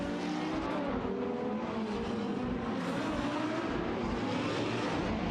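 Race car engines of a McLaren 675 LT and a Radical RXC in a racing game: a continuous dense high-revving drone at steady loudness with shifting engine tones and no voices.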